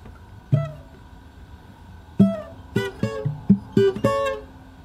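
Fingerstyle acoustic guitar working through a song from Beauty and the Beast, palm-muted plucks with muted bass notes, a few damped hits then a quicker run of short clipped notes, close and unaccompanied.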